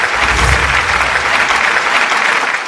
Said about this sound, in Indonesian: Tepuk tangan dulu buat Ken.